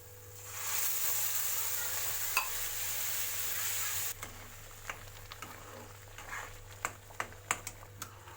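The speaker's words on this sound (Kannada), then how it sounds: "ಹಾಲು ಹಾಕ್ತೇನೆ." Milk poured into a pan while making banana sheera as a Satyanarayana pooja prasadam; a steady sizzling wash gives way to scattered light clinks and soft stirring taps, close and moderately quiet.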